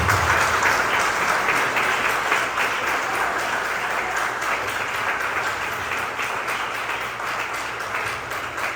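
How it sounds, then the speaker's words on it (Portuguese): A church congregation claps together in steady, dense applause at a Brazilian Portuguese service, loud and sustained from start to finish with no talk over it. "com essas duas mãos que Deus te deu, dê uma salva de palmas para a palavra do Senhor"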